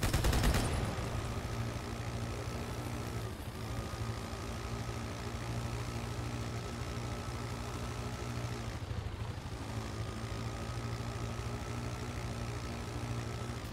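A Halo 2 Anniversary Gun Goose vehicle fires its guns in a dense, sustained rattle over a droning engine, loud and unbroken apart from two brief dips.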